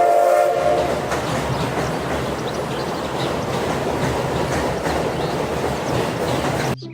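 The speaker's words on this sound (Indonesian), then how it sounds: "ada kereta Thomas teman-teman" A Thomas toy train runs with a steady rattling clatter and a brief whistle-like tone at the start, continuous and fairly close until it cuts off near the end.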